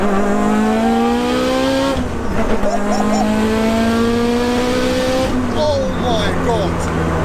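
A 900bhp 2.0-litre Mitsubishi Evo 8 on high boost accelerates hard in second gear, its engine pitch rising steeply in loud, close pulls broken by quick gear shifts, while a voice exclaims over it.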